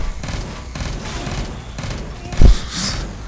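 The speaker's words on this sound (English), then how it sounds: "Grenade time." A grenade blast in the top-down shooter Neon Chrome, a sharp heavy boom bursting out over steady rattling gunfire and game noise.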